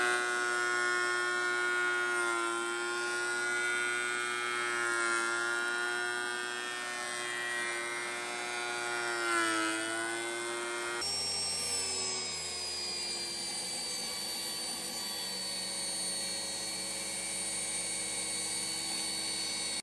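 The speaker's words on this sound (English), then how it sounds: "we're gonna plane down a couple boards and get them a big rectangle" Electric planer running on wooden boards, a loud steady motor whine with sustained harmonic drone that shifts pitch partway through as the cut changes, continuous and close with no talking.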